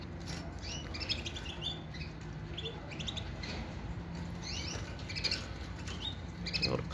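A pair of mosaic canaries chirps and tweets in short, scattered bursts indoors, quick bright calls repeating over faint background noise.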